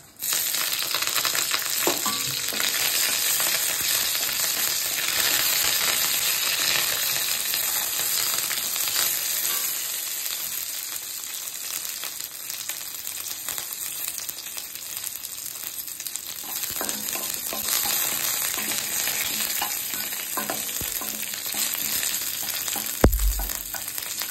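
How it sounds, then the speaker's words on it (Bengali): Curry leaves, black mustard seeds and slit green chillies fry in hot oil for a dhokla tempering, a loud, continuous close-up sizzle with faint crackles that holds steady from start to finish. "কারি পাতাগুলো একটু ভাজা ভাজা হয়ে গেছে"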